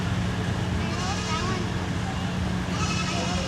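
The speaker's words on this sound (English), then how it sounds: "I hear the meh of the baby goats." Baby goats bleating at a county fair, their short nasal calls rising over steady crowd chatter and a constant low hum of the fairground.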